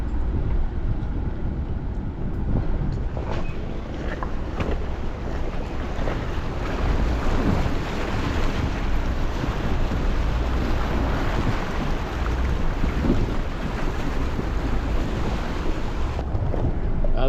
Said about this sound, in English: That was my first ever creek crossing.